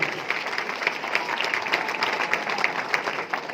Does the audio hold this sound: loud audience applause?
yes